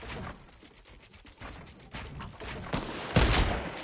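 Gunfire in the Fortnite playground mode, a series of scattered shots and bursts that grow louder toward the end, with one sharp, close blast near the finish and no talk over it.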